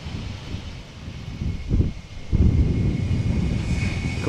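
A TUI aircraft operated by SmartLynx Estonia at Amsterdam Schiphol Airport gives off a low, rumbling engine roar that builds and holds steady, mixed with wind buffeting the microphone.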